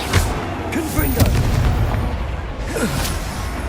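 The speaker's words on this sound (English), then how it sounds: "Confringo." A Confringo blast spell explodes in the Hogwarts Legacy video game, a booming burst amid continuous game sound and music, with a voice speaking over it.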